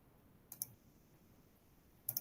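Two quick pairs of computer mouse clicks, crisp and close, about a second and a half apart, with near silence between them while working in Arduino software.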